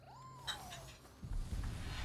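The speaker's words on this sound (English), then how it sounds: "Oh, come on, cat." A cat in the game Nioh 2 gives a single soft, rising-and-falling meow, followed by low rumbling game sounds.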